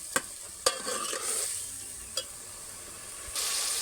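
Onion and cauliflower frying in a pan for a village-style dish, stirred with a few sharp scraping knocks over a steady hiss of sizzling that swells louder near the end.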